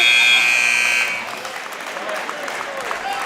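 An electronic buzzer sounds loud and steady for about a second, ending a wrestling period at a high school varsity match against Neshaminy. Crowd noise and cheering follow as it cuts off.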